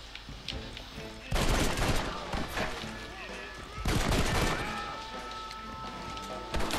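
Bursts of rapid gunfire from the Red Dead Redemption video game, two loud sustained volleys with scattered single shots between them, mixed with game sound effects.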